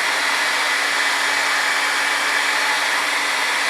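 Gentle heat is played onto a stuck piston to free its rings, a steady loud hair-dryer-like blowing roar holding constant throughout with no talk.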